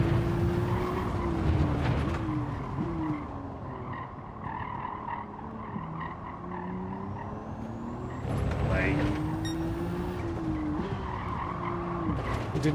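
Race car braking hard and skidding at Spa in Gran Turismo 7, a steady engine drone with pitch sweeps and a tire-squeal burst near the end, while someone talks over it.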